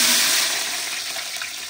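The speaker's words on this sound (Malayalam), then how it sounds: "ആദ്യം നമുക്ക് ഉള്ളി വറുത്തെടുക്കാം." Onions frying in a mix of oil and ghee for chicken biryani give a loud, steady, close sizzle that fades slightly over a short stretch, with no talking.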